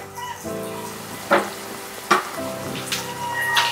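Mutton pieces sizzling in a pan with fried ginger, a steady crackling fry with a few sharp bursts as meat hits the hot oil, near and alone.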